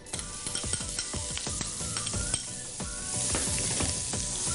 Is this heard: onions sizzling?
yes